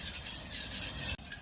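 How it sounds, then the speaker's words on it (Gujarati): A spoon stirs sugar into a glass of water, making a continuous close swishing rasp and faint scraping against the glass, broken by a short gap near the end. "હવે આપણે ખાંડ છે તે ઓગાળી લઈશું."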